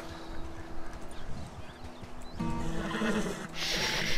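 A horse whinnies in Red Dead Redemption 2, with hoof clip-clop and game ambience, growing louder and busier toward the end.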